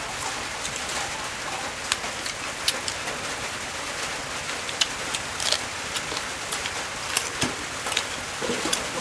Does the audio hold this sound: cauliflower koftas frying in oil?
no